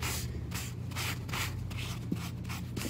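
A paper towel rubs crackle medium onto a painted furniture surface, giving a soft, steady scratchy swishing in repeated strokes, close and fairly quiet, with no talking.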